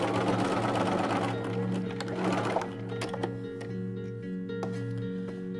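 A sewing machine hums and chatters steadily while stitching the inside-edge seams of hexagon patchwork pieces, its rapid needle rhythm continuous and close, easing slightly in intensity midway.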